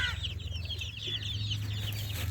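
Half-grown young chickens cluck close by in quick, overlapping bursts over a steady low hum.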